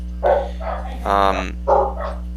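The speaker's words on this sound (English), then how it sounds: "Dog." A dog gives a few barks and yips in a broken rhythm, close and fairly loud, mixed with voices over a steady low hum.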